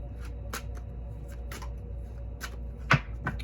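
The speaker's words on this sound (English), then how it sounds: "Actually, I'm going to shuffle them." Kipper cards being shuffled by hand in a series of crisp riffling bursts, several quick flutters spaced irregularly, close up and alone.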